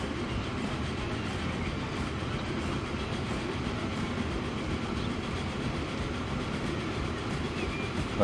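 A train strains uphill in Transport Fever, giving a continuous rolling rumble with a faint clickety-clack of wheels, steady and unbroken throughout.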